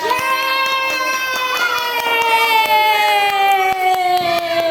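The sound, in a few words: audience applause for children's theater group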